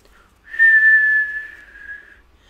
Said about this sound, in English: This is me trying to whistle.